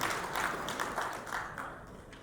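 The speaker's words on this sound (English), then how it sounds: "I think you deserve a round of applause" Seminar audience at a Rotary TRF recognition program breaks into applause, a dense, even patter of many hands clapping at moderate distance that thins slightly toward the end.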